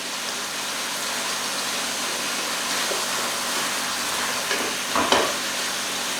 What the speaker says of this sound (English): now that that's sizzling away